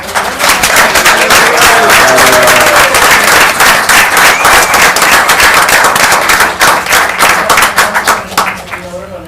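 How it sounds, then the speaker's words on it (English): A room at a borough council meeting bursts into loud, sustained applause with sharp individual claps and some cheering voices, fading toward the end. "Guys, we got a big round of applause for"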